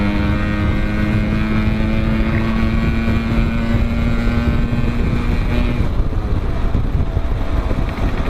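A Suzuki Shogun motorcycle engine drones loud and continuous as it passes on the road, a steady buzzing roar with a sustained tone that shifts slightly, heavy wind rush throughout.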